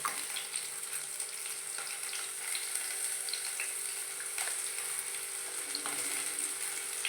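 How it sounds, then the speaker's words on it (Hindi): Asafoetida goes into onions frying in hot oil for fried rice, and a steady, close, continuous sizzle fills the pan with faint stirring, no voices. "थोड़ी सी डालूंगी मैं इसमें हींग।"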